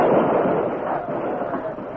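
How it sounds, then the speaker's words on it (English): A dense, continuous crackling barrage serves as the gunfire sound effect in an old Western radio drama battle between mounted troopers and Indians, heard close and fairly loud with no voices. "Devastating gunfire broke out."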